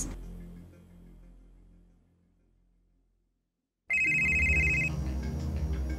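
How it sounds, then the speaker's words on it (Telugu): A phone rings with an incoming call, its loud, bright electronic ringtone cutting in abruptly after a fading passage of music and silence, then sounding continuously. "లిఫ్ట్ చేయి సంజు, కాల్ లిఫ్ట్ చేయి ప్లీజ్."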